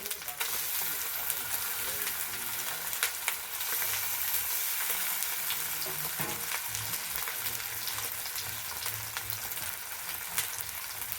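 Cumin paste, fresh chili paste and dried chili paste sizzle in a pan while being stirred for a village-style country chicken curry, giving a steady close frying hiss broken by scraping stirs.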